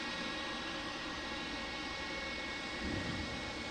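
A CRJ 900 regional jet lands on runway 21 left at Detroit Metro Wayne airport, a steady distant engine roar with no voices over it.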